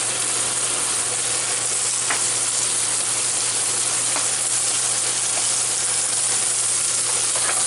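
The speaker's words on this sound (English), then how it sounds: "I'm going to start this by melting my 3 tablespoons of butter. And I'm going to throw my mushrooms in" Mushrooms sizzle steadily in three tablespoons of melted butter over medium-high heat, a dense, even frying hiss running throughout with a few faint pops and soft stirring scrapes.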